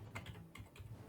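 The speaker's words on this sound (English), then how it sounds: "I can hear you typing, Jay." Computer keyboard typing, a quiet run of uneven clicky keystrokes close by with no voices.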